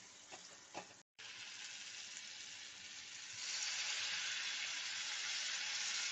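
Fish head dish frying in a pan with water added, a steady hiss and sizzle after a few clinks and a brief cut, growing louder and brighter partway through.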